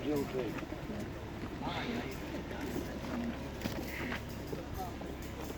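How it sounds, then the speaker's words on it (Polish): Pigeons coo and flutter nearby at an animal market while people talk over them, with occasional soft calls breaking through the conversation. "bo to najpiękniejsze gołębie na czempiony pewnie tak zwane"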